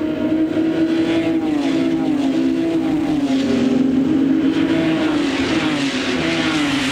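1997 Barber Dodge Pro Series race cars racing at St. Petersburg fill the air with a loud, continuous engine roar whose pitch rises and dips as they accelerate and lift, with no break or voice over it.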